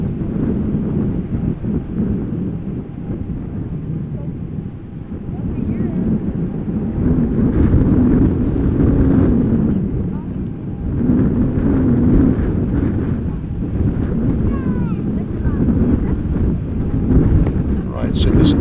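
Steady wind roars and buffets at Amsterdam Schiphol Airport, a loud, rushing blow that swells and eases in gusts across the whole stretch.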